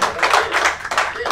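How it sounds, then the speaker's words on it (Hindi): An audience at a mushaira claps in a short burst, the scattered, uneven claps rising and falling, close and fairly loud. "एक बार जोरदार तालियों से"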